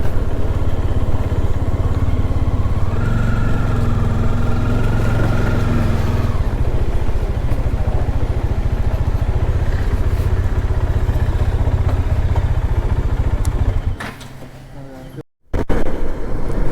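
Motorcycle ride resuming after a full-tank fuel stop on a Tamil motovlog trip back to Bengaluru: a steady engine drone with rising revs and constant wind rumble throughout, then a brief drop near the end.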